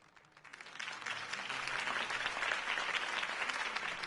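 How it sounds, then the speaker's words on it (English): A large crowd applauds after a campaign speech for a city election. The clapping swells from a quiet start into a thick, sustained roar of hands that holds steady and sounds somewhat distant, like a big hall or open rally space. "If only Mr. Wayne, my campaign's largest backer, could have heard that applause"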